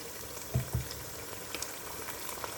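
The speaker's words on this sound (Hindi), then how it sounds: "पहले गार्लिक जिंजर का पेस्ट डालती हूँ" Garlic ginger paste fries in a pan with a quiet, continuous sizzle and two soft knocks early on.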